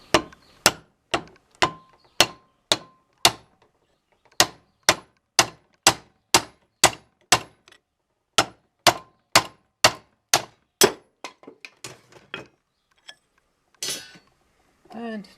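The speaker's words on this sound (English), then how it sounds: "I'm going to use an aluminium bar, no real reason, just except that it's handy, and a hammer to pound it out." A hammer pounds an aluminium bar to drive out a hammer head, repeated sharp metallic blows in rapid bursts, clanging loudly and close, pausing between runs, followed by a few scattered lighter knocks.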